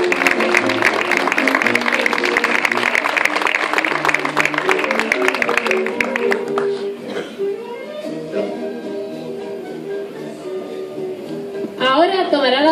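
Applause from an audience at a tribute to the cantinas and bars of Barrial de Gáldar, as a councilman presents an award to his father. Dense, steady clapping fills the first half, then gives way to tonal sound.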